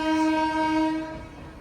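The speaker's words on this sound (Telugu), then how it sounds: "చెన్నై బండి, లోకల్ బండి." A local MEMU train bound for Chennai sounds a long, steady horn blast as it departs, loud and nearby, the tone holding for over a second before easing off.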